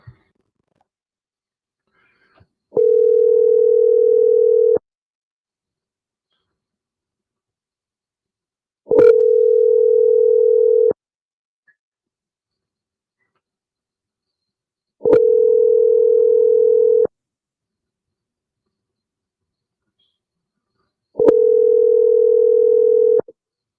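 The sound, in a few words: telephone dial tone while placing a phone call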